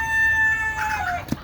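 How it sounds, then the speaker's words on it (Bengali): Released chickens give a single short rooster-like crow with a brief cluck or flutter at the end, moderately near. "ওই যে দেখেন ওদিকে সোহন ভাই মুরগিগুলো ছেড়ে দিল।"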